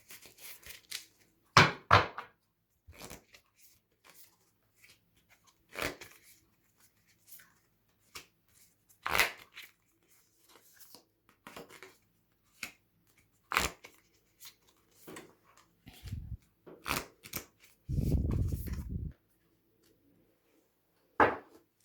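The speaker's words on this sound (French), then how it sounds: "Je vais tirer quelques cartes par-dessus." Tarot cards drawn and laid out on a table: scattered soft slaps, flicks and shuffling rustles at irregular intervals, close and fairly quiet, with a longer rubbing stretch near the end.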